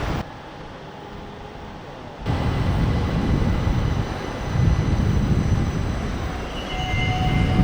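An LRT train rumbles along steadily, a loud continuous roar of wheels and motor that swells after a quieter start, with no voices.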